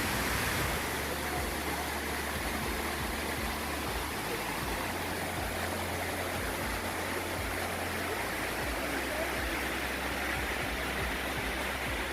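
Water from New York City fountains rushes in a steady, even wash of noise that holds unbroken from start to finish, with no voices over it.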